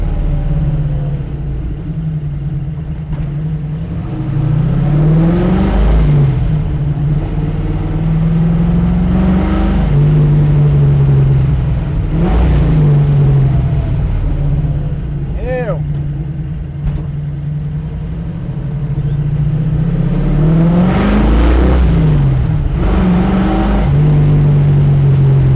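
A Mustang Shelby GT500 tribute car with a Quadrajet carburetor and aggressive cam sits at a high, lumpy idle, rumbling loud and close, with several revs rising and falling over it while people talk nearby.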